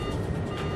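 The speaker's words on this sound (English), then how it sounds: "TCAS, sounds an alert." A TCAS traffic collision avoidance alert sounding in an airliner cockpit at cruise altitude over Switzerland, a brief steady electronic tone lasting under a second over a constant low hum.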